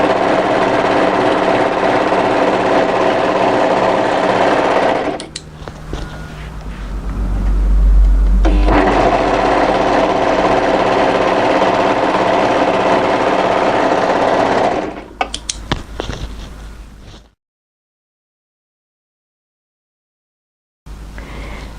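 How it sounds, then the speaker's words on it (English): An overlocker stitches the lower sleeve hem edge of a winter sweater in a loud, steady, close whir, pausing briefly midway, then stopping, with a short silence before it starts again. "it's an easy time now to overlock the lower sleeve hem edge"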